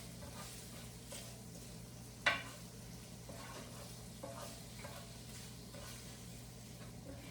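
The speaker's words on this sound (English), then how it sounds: "I'm gonna go ahead and actually give that a quick toss with our shrimp so we can incorporate those Italian seasonings" Shrimp tossed with Italian seasoning in a hot pan for a shrimp pasta give a steady, quiet sizzle with soft stirring scrapes and one brief clack of a utensil against the pan, with no voices.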